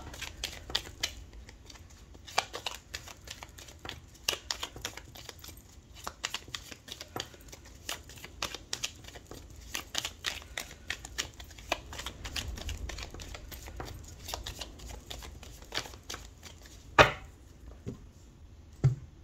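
Tarot cards are shuffled by hand for a reading, a long run of quick riffling flicks and soft slaps, close and fairly quiet, with a sharper snap near the end.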